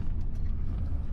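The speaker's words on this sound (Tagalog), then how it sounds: "maraming truck na dumating" Heavy traffic crowded with trucks gives a close, continuous low rumble of engines and road noise, steady and unbroken throughout.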